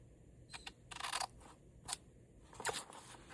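Scissors snipping paper for a vintage Christmas journal, a few sharp close cuts in irregular bursts over quiet room noise.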